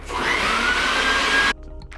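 A vacuum cleaner runs on a RocketBox 2.0 pre-roll machine, a loud close whooshing whine that rises slightly in pitch, then cuts off abruptly after about a second and a half.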